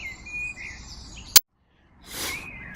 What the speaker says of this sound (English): Plenty of bird call, which is great.